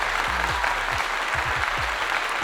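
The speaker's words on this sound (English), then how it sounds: "Let's give him a clap" A studio audience claps for football player Damar Hamlin, dense steady applause heard over a low tonal background, loud and unbroken for a couple of seconds.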